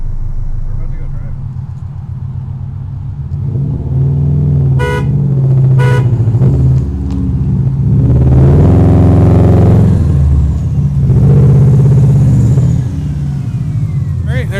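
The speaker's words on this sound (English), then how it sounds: "it's the last time this motor will pull this car under its own power" A car with a Subaru EJ22T engine that has covered 341K miles idles with a low, loud rumble and then revs as it pulls away, with people talking nearby and a short horn-like toot.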